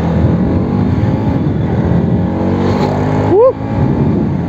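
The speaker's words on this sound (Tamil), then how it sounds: "வண்டி இப்போ ஒரு பிக்கப் டெஸ்ட் பண்ணுவோமா, ஒரு பிக்கப் டெஸ்ட்டை போடுவோம்." A Bajaj NS 200 BS4 motorcycle is ridden during a pickup test, its engine giving a loud, steady droning hum with wind rush. A brief rising chirp sounds near the end.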